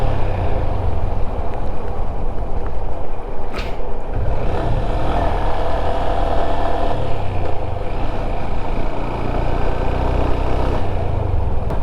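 A motorcycle rides along a rural village road beside the Tulsiganga river, with a steady close engine drone and wind rush, loud and continuous, with no talking.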